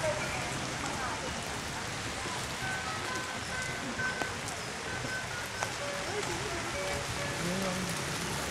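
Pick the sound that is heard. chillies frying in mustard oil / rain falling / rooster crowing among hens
rain falling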